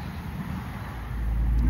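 Road traffic near a river: a car's low rumble rises and grows louder as it approaches, over a steady background hum.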